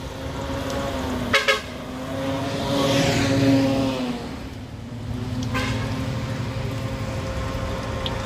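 Heavy road traffic on Andaya Highway in Bicol during nonstop rain, with two short, loud car horn toots early on over a steady engine rumble and wet road hiss, and another faint horn later.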